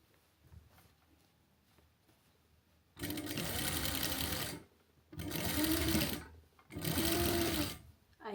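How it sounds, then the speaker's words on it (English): A sewing machine runs a flat stitch along thrifted clothing in three loud, sustained bursts separated by short quiet pauses, after softer handling sounds at the start. "now I'm gonna stitch on the same flat stitch I did before"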